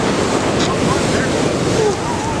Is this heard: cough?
no